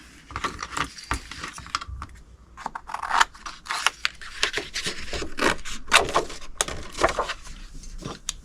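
Scissors snip through paper up close at a papercraft table, a quick irregular series of crisp cuts and rustles running steadily for several seconds with no voices.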